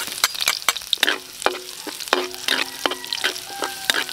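Crushed garlic, ginger and onion sauté in a pan, a spatula clacking and scraping sharply against the metal over a light sizzle, close and unaccompanied by talk.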